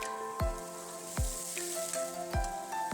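Eggplant pieces frying in a pan for a fish dish: a steady sizzle broken by three sharp knocks from a spoon against the pan, close and fairly loud, with no talking.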